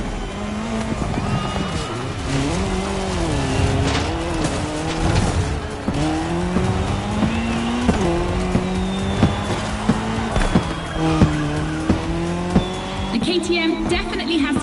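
A KTM motorcycle and a Puma car race in The Crew Motorfest, engines revving up and down with tire squeals and skids, a dense loud mix with game effects and brief clattering hits.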